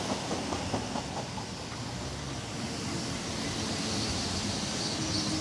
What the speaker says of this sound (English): Is that a train coming in?